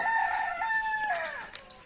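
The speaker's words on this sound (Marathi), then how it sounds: "आवाज येतो कोंबड्याचा" A rooster crows once on a farm among cattle and buffalo, a loud, close, drawn-out call lasting under two seconds with no talk over it.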